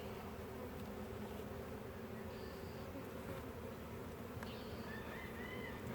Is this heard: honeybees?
yes